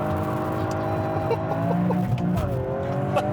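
A Toyota GR Yaris revs and pulls hard from a standstill, a loud, steady engine note rising in pitch through the gears, close and continuous with no talking.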